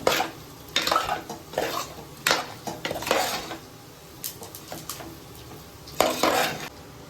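Spice powders are mixed into chicken kurma in a pan, with bursts of scraping and clattering spoon-on-pan strokes over a soft sizzle, close and uneven with short pauses between.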